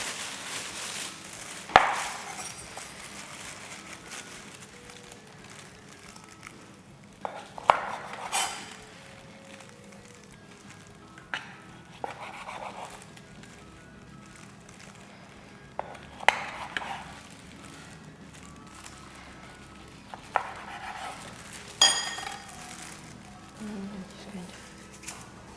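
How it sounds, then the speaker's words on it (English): Knife slicing through bulgogi kimbap rolls on a board, a series of soft, scattered cuts spread across the stretch, fairly quiet against a low room hum. "So I'm going to start doing the cutting now."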